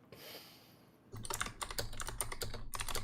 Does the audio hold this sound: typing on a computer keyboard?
yes